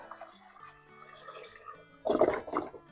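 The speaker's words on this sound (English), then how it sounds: "Now we're going to add 4 cups of beef broth" Four cups of beef broth are poured into a pot of Hungarian goulash soup, giving a short, close splashing gurgle after some faint clinks and small drips.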